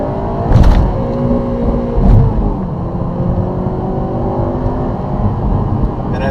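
A Honda Civic Si with a 2-liter inline-four engine revs up to around 6,000 RPM. The sustained engine drone carries two sharp rev blips near the start, heard close and loud with no talk over it.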